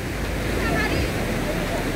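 Ocean surf at Praia das Conchas beach in Cabo Frio, a continuous loud wash of breaking waves with wind rumble on the microphone.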